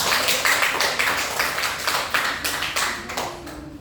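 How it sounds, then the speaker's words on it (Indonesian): A classroom of students clapping for a group after their presentation: quick uneven rounds of hand claps, fairly close, rising and falling in bursts across several seconds. "Beri tepuk tangan buat kelompok 2."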